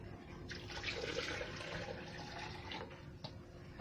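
Water streams steadily into a blender jar for a few seconds, a soft hissing splash from close by with faint clicks near the end.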